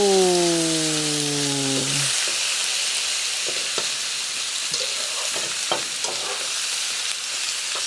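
Pork belly and garlic frying in a pan, a loud steady sizzle with stirring scrapes and clinks, preceded by a brief descending electronic tone at the start.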